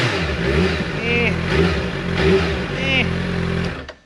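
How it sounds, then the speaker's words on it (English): A 2022 Suzuki Hayabusa motorcycle engine revs up and down repeatedly, rough and loud up close, with a person speaking over it. "Let's get us some better revs."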